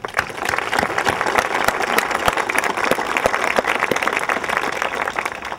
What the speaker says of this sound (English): you should give yourselves a nice round of applause